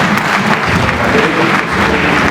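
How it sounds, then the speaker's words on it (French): A crowd at a Congolese commemoration for Laurent-Désiré Kabila breaks into loud, close, continuous clapping that fills the whole brief stretch. "nous vous remercions pour pouvoir applaudir pour nous-mêmes"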